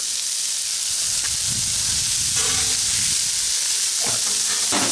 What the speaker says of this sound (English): Okay, so now we're going to put the onion.